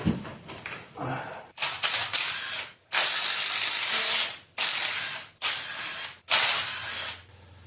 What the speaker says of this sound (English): Now we got to get a number 40 Torx bit, I believe it is. Get our cam retainer plate off.